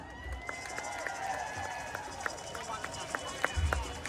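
An outdoor pro-democracy rally crowd in Kentucky claps and cheers, with scattered sharp claps popping over a low, continuous murmur of voices that stays fairly faint and distant.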